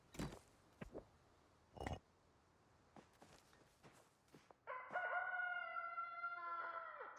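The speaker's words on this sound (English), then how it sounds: "I hear you, chicken." A rooster crows once, loud and near, a drawn-out harmonic call near the end after scattered thumps and light footstep-like knocks in an otherwise quiet setting.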